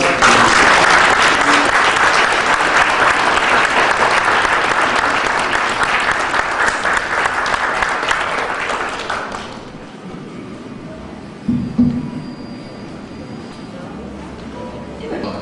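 Guests at a 50th wedding anniversary celebration in a hotel ballroom give a loud, dense round of applause for the couple. The clapping fades out after about nine seconds, leaving quiet room noise and a brief murmur.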